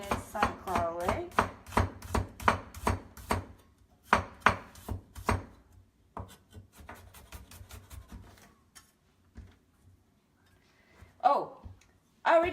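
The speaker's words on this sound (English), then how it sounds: "we need some garlic minced" Garlic being minced with a knife on a cutting board, a fast run of sharp chopping taps up close that thins into sparse knocks, with someone talking over the first half.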